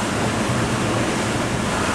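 Waves crashing on a bay at Colleran Park in Massapequa, NY during Hurricane Irene, a loud continuous roar of surf mixed with heavy wind noise.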